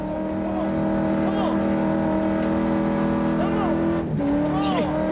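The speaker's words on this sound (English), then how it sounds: "This big V8 Ford Mustang, just not used to running in this higher altitude." A big V8 Ford Mustang race car climbs Pikes Peak at high altitude in 1995 IMSA SuperCar competition, its engine droning steadily with a strained, harmonic-rich note, heard from a distance under a commentator's voice.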